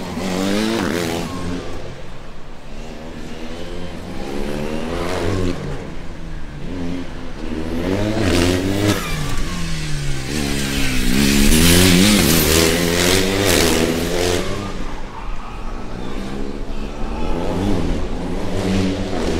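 A race car at a historic autocross event, Formula Student Germany 2023, launches hard and accelerates. The engine is loud and continuous, with repeated rising revs through the gears and no other sound over it.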